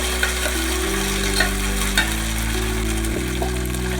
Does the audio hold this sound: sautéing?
yes